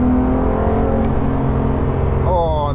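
A Porsche 911 GT3 Touring engine drones loudly and steadily while the car drives along in third or fourth gear, its pitch climbing briefly near the end.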